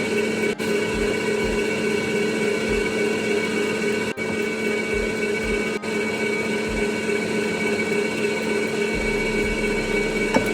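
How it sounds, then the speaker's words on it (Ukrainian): An electric mixer runs steadily and close up, whipping eggs with sugar into a fluffy foam for a cake, holding an even whirring hum throughout with a few brief clicks. "І будемо взбивати в міксері до пишної піни."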